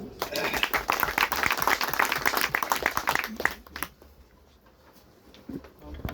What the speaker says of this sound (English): Let's clap for him once.